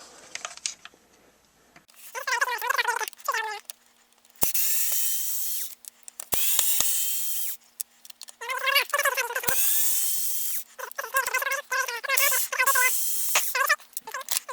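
Phillips screws being removed from the motor mount of a Ryobi P503 circular saw with a power driver: several short bursts of whirring screwdriver spin with pauses between, plus a few sharp clicks, close up, no talking.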